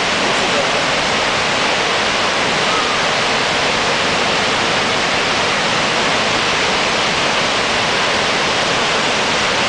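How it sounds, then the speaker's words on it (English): Heavy water pours down at a waterfall near the Snoqualmie River, a dense, steady roar that fills the whole clip, loud and close, with no break or change in its rush. "There's a hell of a lot of water coming down here."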